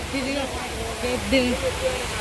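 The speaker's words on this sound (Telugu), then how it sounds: "వాటర్ ఫాల్ను ఇక్కడ" An artificial waterfall in Lumbini Park, Hyderabad, gives off a steady, broad rush of falling water, heard beneath a person's voice.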